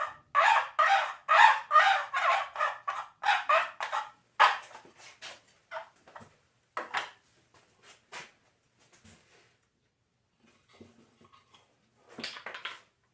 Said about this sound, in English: it makes kind of a noise like a turkey